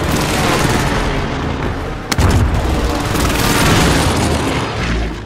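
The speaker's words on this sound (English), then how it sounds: "Precision airstrike missed." Precision airstrike explosions in the Call of Duty video game, a dense rumbling barrage of booms and blasts with one sharp crack in the middle, loud and continuous throughout.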